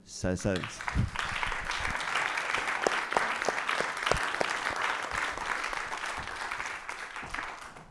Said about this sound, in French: Est-ce qu'on peut se permettre de les applaudir?